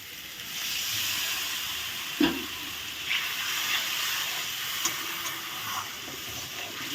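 Spiced masala for a chana dal dish sizzles steadily in a pan as water is added, a continuous broadband hiss with a few brief bubbling pops and clinks, fairly close and alone without talk.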